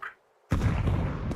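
A smoke grenade going off in a competitive BLAST Premier match, with a faint click and brief quiet before a sudden loud burst that settles into a steady, heavy hiss.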